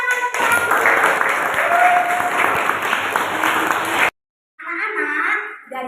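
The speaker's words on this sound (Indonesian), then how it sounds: "tepuk tangan untuk" Classroom applause for children after a juice-making demonstration, a few seconds of lively clapping with voices mixed in, then a break and a speaking voice.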